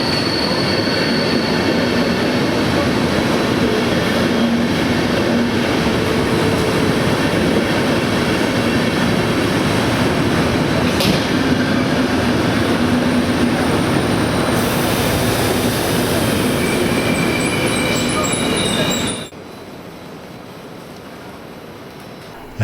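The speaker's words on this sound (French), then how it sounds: "le train Klagenfurt-Dortmund qui vient d'arriver avec sa composition DB" A Klagenfurt–Dortmund train made up of DB coaches stands at the platform after arriving, its steady rumbling hum and hiss filling the station. Faint squeals and clunks come through before the noise drops sharply near the end.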